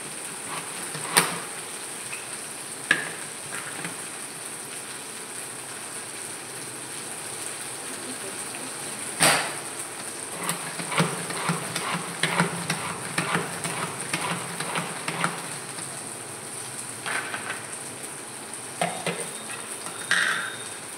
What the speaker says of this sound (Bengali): একটু হালকা করে একটু শ্যালো ফ্রাই করছে ঢ্যাঁড়সটা আমি করে নিচ্ছি।